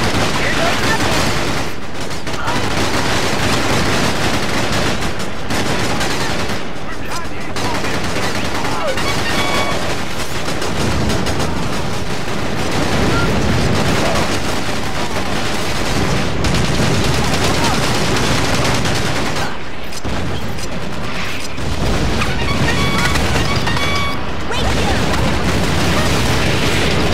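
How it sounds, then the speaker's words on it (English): Sustained gunfire in the Battalion Wars Tundran campaign, dense volleys and booms rolling on without pause, loud and close, with occasional shouted voices over it. "They're shooting at the commander!"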